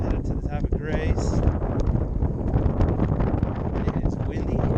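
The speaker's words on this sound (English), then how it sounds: "It is windy." Strong wind gusting across a mountain saddle between Grays and Torreys peaks in Colorado, loud buffeting roar on the microphone throughout, with a voice speaking briefly near the start.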